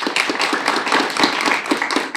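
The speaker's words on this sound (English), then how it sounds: "I think we should give an extra round of applause to Joni" An audience at a business school podcast event applauds, many hands clapping in a lively, uneven patter with a few sharper individual claps standing out.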